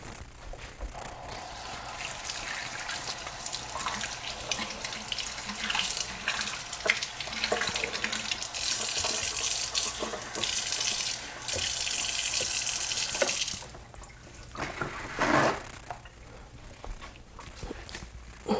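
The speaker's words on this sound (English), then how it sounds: "we're just going to rinse this off" A mango seed is rinsed under a running kitchen tap. Water gushes and splashes steadily and fairly loud, with brief changes in the flow as the seed is turned, then a quieter trickle near the end.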